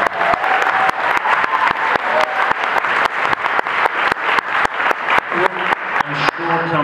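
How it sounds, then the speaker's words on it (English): A convention crowd at a DragonCon panel claps loudly in a sustained, even round of applause, with a few sharp nearby claps standing out and a faint voice near the end. "you can give him a round of applause"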